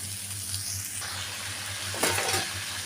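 Cumin powder fries in a pan for a vegetarian jackfruit seed and pumpkin curry, a steady close sizzle with a low hum underneath and a brief stirring scrape near the end.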